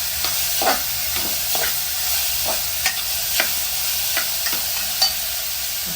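Vegetables sautéing in a pan for veg momo filling, with a spoon stirring in repeated scrapes over a steady soft sizzle, close and alone without any talk.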